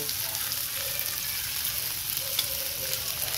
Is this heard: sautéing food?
yes